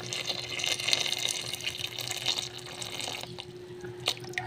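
Water running from a tap and splashing as it is poured into a cooking pot holding tinduk bananas to be boiled, a steady close trickle with faint drips, no talking.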